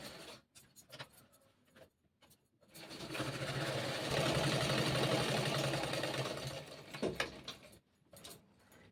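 A sewing machine stitches a kurti seam in one loud, steady burst of rapid mechanical clatter lasting several seconds. Shorter clicks and fabric handling come before and after it.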